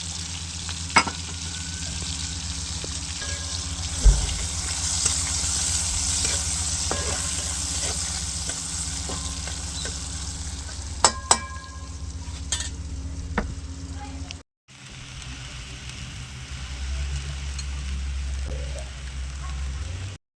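Tomato and garlic dropped into a crackling cumin tempering over a wood-fired village stove, a steady soft sizzle with occasional stirring clinks, fairly quiet and close, then a brief cutoff before the frying resumes.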